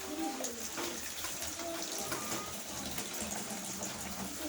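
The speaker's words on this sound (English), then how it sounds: "So let's pour the quantity we want to use for the color separator here" Liquid is poured steadily into a container while making a bleach color separator, a continuous watery splashing and trickling that stays close and fairly loud without pause.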